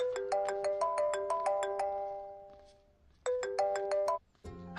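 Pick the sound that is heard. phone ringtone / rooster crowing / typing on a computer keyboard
phone ringtone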